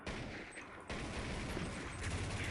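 Video game gunfire, a dense burst of rapid shots with a brief gap before the firing resumes and continues steadily to the end.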